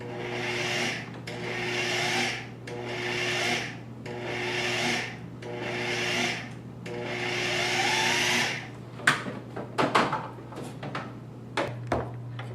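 A food processor pulses butter into tart pastry dough in a home kitchen: six rhythmic whirring bursts over a steady background hum, then a few clattering knocks as the machine stops.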